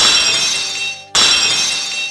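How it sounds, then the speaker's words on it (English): Metal locks cracking and shattering into shards, two bright crashing bursts in quick succession with glittering, ringing debris, loud and close. "Cracking metal as the two locks shattered, spinning away in glittering shards."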